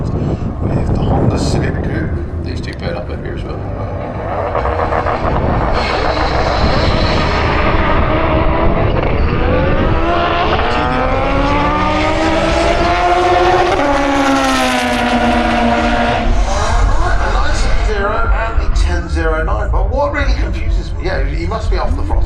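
Two drag racing cars, an Audi TDI and a Honda Civic Coupe, run at a strip during evening qualifying: a loud engine drone rising in pitch as they accelerate, with a commentator talking over it throughout.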